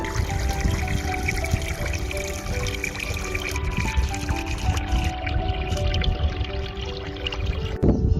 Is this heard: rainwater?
yes